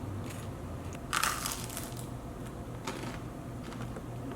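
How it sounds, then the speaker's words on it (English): Someone takes a single crisp, crunchy bite of toasted gluten-free sourdough bread, heard up close as a brief crackling burst, followed by quieter chewing crunches. "Did you hear that crunch though?"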